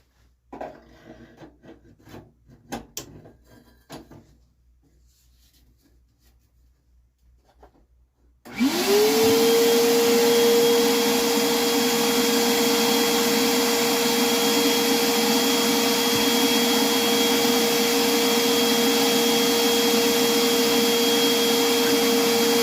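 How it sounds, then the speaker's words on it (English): A loud, steady vacuum motor starts abruptly after some faint scraping and clatter, then drones on continuously with a high whine, vacuuming rust from the bottom of a 1978 motorhome's heater. "I'm going to vacuum all of that rust that's in the bottom"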